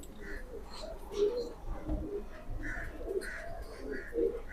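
Pigeons coo softly in a repeated low rhythm, several calls overlapping at moderate distance against a quiet background.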